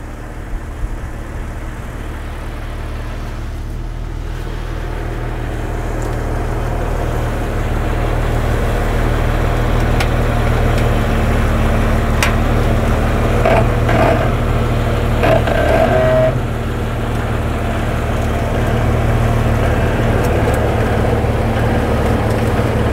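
A Jeep idles low and steady as it rolls slowly backward down the outside edge of an RV hauler trailer ramp, its engine drone continuous and fairly close, with a few brief clunks and rattles partway through and no voices.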